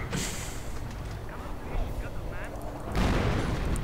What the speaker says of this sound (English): More artillery firing away.